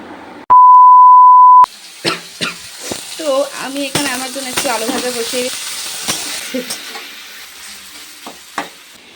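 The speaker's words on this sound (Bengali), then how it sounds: "তো আলু ভাজাটা আমি বসিয়ে দিলাম" Potatoes frying in oil on a gas stove, opening with a steady electronic beep before sizzling and crackling take over, broken by sharp spatters and clinks while a voice talks faintly in the background.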